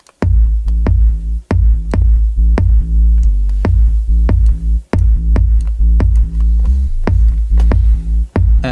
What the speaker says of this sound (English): Let's go ahead and bring in our sub bass.